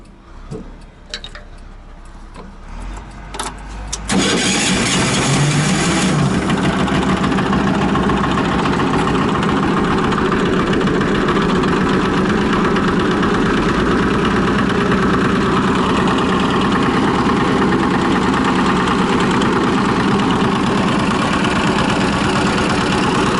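Dynapac road machine engine cranks and starts after some clicks and clatter, then settles into a loud, steady idle that continues unbroken to the end.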